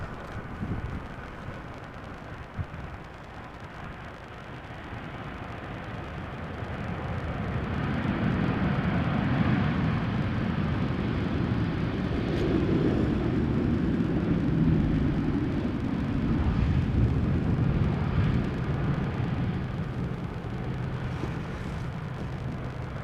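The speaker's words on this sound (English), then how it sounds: "Transavia arriving from Napoli, 737-800, Transavia flight 6410." Transavia Boeing 737-800 arriving at Amsterdam Schiphol in showery weather, a broad distant jet roar swelling in over several seconds and holding steady, with light wind buffeting on the microphone.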